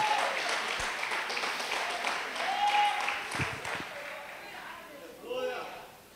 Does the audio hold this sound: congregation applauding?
yes